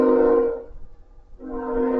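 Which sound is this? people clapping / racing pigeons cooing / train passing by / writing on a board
train passing by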